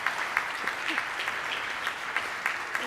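Audience at a middle school honor society induction ceremony applauding, a steady moderate patter of many hands with a few louder claps standing out.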